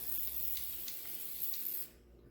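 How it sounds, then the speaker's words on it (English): A kitchen oil spritzer sprays a steady hissing mist over the tops of bagels for about two seconds, close and fairly quiet, stopping abruptly. "you can actually just spray the top of your bagels"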